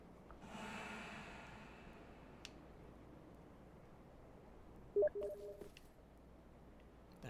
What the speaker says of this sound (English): Isn't that the noise that a Steam message notification makes?